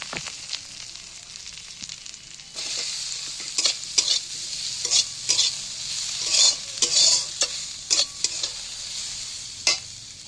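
Soybean chunks hit a pan of onions fried until red and start sizzling, a loud frying hiss punctuated by repeated scraping stirs of a spatula.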